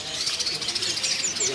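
Canaries at a bird market kiosk give off a steady wash of high chirps and tweets. The sound is dense, continuous and moderately close, with no single call standing out.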